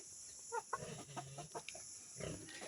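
White Leghorn layer hens in a poultry house, soft scattered clucks and short calls at close range, faint and intermittent over a steady high electrical hum.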